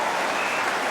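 A crowd at an Australian rules football match between Fremantle and North Melbourne applauds and cheers in a steady, dense wash of clapping with no break.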